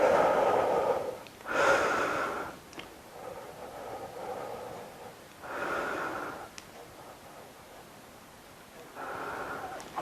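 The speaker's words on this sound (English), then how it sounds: "and breathe" A person holding a wall sit during an at-home fat loss workout breathes heavily, with several long, strained exhales and inhales rising and falling close to the microphone, and no talk.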